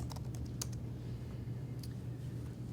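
Keys clack in short, scattered taps as a web address is typed on a Chromebook keyboard, faint clicks over a steady low room hum.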